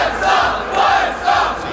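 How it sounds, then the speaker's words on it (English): A large crowd at a game convention booth chants "WildStar" in loud, rhythmic waves of massed voices, with the repeated chant swelling about three times. "The crowd outside just chanting WildStar"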